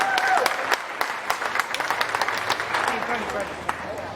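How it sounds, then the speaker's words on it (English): A scattered round of clapping rises at a county fair goat show for young showmen, sparse individual claps under ongoing talk and crowd murmur, thinning toward the end. "Let's go ahead and give these young kids a round of applause"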